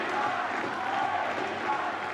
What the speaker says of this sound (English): when those oohs and ahs are coming from the crowd